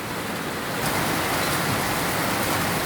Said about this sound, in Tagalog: narinig nyo, malakas ang ulan